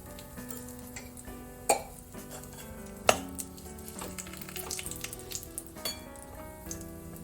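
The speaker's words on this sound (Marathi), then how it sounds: "मी असे अंजिराचे छोटे तुकडे केलेत, ते सुद्धा मी जरा आता थोडेसे शिजवून घेते." Small chopped figs cook in a pan with ghee, sizzling softly under repeated stirring, with sharp utensil clanks against the pan at intervals and a light clatter of cookware.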